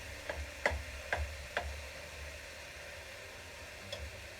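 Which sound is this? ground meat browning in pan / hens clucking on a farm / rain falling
ground meat browning in pan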